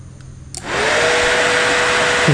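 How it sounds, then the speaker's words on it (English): A fan kicks on after a jumper test of the plug connections, a steady loud whooshing hum that starts abruptly and runs continuously, close and alone. "You can hear that fan's working."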